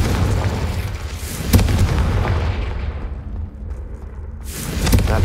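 A Confringo blasting spell detonates in Hogwarts Legacy: a loud booming blast lands early, rumbles and fades, then a second sharp burst hits near the end.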